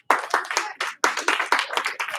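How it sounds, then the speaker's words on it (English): A group of children in a classroom clap in uneven, rapid bursts, with short pauses between sharp hand claps, close and fairly loud. "Give him one clap."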